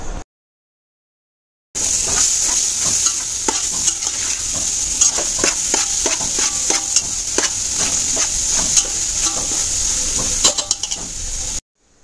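Malvani prawn masala with corn, cooked sweet potato and raw banana sizzles steadily in a pan for about ten seconds, with repeated scraping strokes of a spoon stirring the mixture close by.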